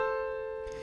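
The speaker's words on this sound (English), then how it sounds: "an A plus a C just above it" Two pitched notes, A and the C just above it, sound together as a steady sustained interval of a third, clear and fairly soft, with nothing else playing.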